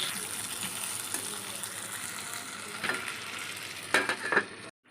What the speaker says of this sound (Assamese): অলপমান দেৰি এনেকৈ ফ্ৰাই কৰি ল'ম আলুখিনি